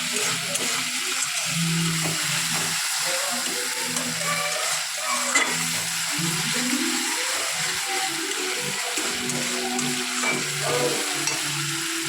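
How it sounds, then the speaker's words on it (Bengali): Masala spice paste frying in oil for a chicken curry, stirred and turned in the pan: a continuous close sizzle with repeated scraping strokes of the spoon, steady and alone throughout. "দেখো মশলাটাকে একটু নেড়ে চেড়ে দেবো মশলা থেকে যখন তেল ছেড়ে দেবে তখন বুঝবো যেন মশলা হয়ে গেছে কষানো"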